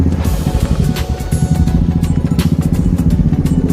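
A motorcycle engine runs loud and close at the start of a ride from home, a steady, rapid pulsing throb with no voices.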